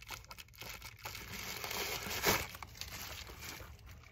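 Scissors snipping through plastic wrap on a Ringdoll ball-jointed doll package, a steady crinkling and tearing rustle with one sharper cut near the middle, close and moderately loud, no voices.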